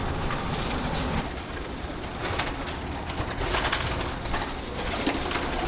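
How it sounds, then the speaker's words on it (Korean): Hundreds of pigeons in a rooftop pigeon loft atop a city hall coo steadily, a dense chorus of soft overlapping calls with occasional wing flutters, close by and continuous. "800마리의 비둘기가 사는 비둘기 집이다."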